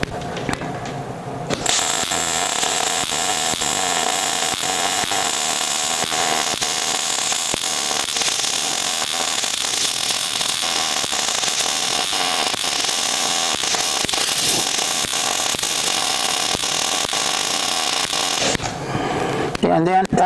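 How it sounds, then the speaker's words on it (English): Downhand welding on a steel gantry crane gives a loud, continuous crackling buzz that starts abruptly, holds steady and close for roughly seventeen seconds, then cuts off. "I'm going to weld down on what's called a downhand weld, and I'm going to start from the top and work my way down."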